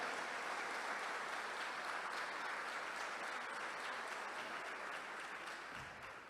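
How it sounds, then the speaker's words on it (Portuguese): A church congregation claps during a sermon, a sustained, even burst of hand claps heard from a distance at low level, fading slightly near the end. "Se é para Jesus, aplaude forte,"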